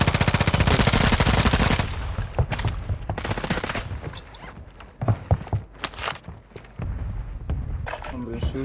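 Rapid machine-gun bursts open loudly, then give way to scattered single gunshots, footsteps and shuffling, with voices speaking in between.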